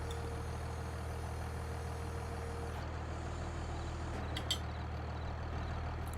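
A tractor engine idling in Farming Simulator 22, a steady low rumble with a faint whine that cuts out partway through, followed by a few short clicks.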